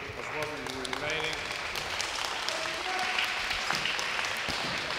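Spectators clap at a university squash championship final, a steady moderate patter of applause in an indoor venue with a voice talking over it.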